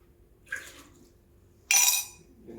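Hot water gurgles and splashes out of a Breville Barista Express BES870 espresso machine in two bursts: a brief pour, then a louder, stronger gush, heard up close with no talking.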